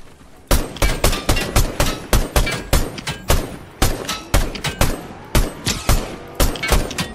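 Video-game gunfire rings out in a rapid, steady string of loud, sharp shots. It keeps up for several seconds with only brief gaps.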